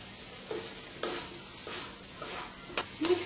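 Fried okra is sautéed and stirred into masala in a pan, giving a gentle close sizzle with soft rhythmic scraping strokes and a couple of light clinks near the end, no talking.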